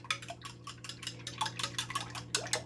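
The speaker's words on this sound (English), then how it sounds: "I don't have a whisk anymore, so I'm going to use my big fork. Give it a good mix." A big fork beats and stirs mac and cheese ingredients with milk in a bowl, giving a quick run of close, bright clinking taps against the dish in an irregular rhythm.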